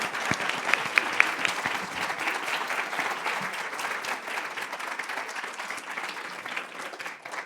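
An audience at a book talk breaks into sustained, even applause to welcome the speaker, many hands clapping steadily without a break and no voices heard.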